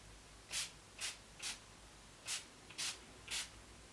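A makeup fixer face spray mists onto a face in six short, crisp hissing bursts, unevenly spaced, close and clear against a quiet room.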